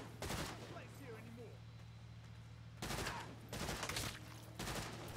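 Rapid gunfire from upgraded weapons in the Saints Row video game (2022) on PS5, several loud bursts of automatic shots over a steady low game hum.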